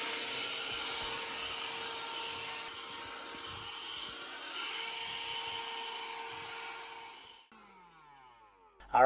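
A cordless wet/dry vacuum cleaner runs with a steady whirring, hissing drone for several seconds, then cuts off abruptly near the end.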